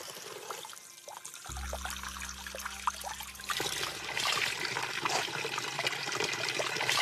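Carbonated Orezza spring water wells up from the ground, bubbling and trickling steadily, growing into a fuller gushing wash of water partway through, close and continuous with no talk.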